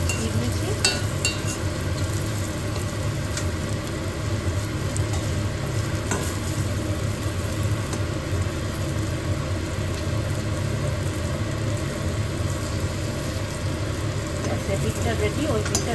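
Food frying lightly in a pan with a steady, moderate sizzle that runs unbroken for the whole stretch, close by and even in level.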